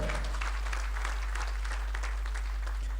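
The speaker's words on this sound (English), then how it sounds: "Please, a round of applause for them" Audience at a school graduation ceremony applauds award-winning students, continuous mid-sized clapping at a steady level with a low electrical hum underneath.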